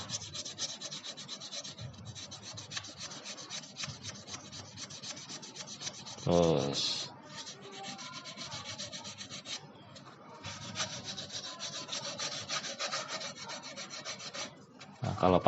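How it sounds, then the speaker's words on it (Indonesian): Sandpaper rubs back and forth over a Honda Supra X 125 footrest in steady, scratchy strokes, pausing briefly midway before resuming, close and fairly quiet. "Amplas."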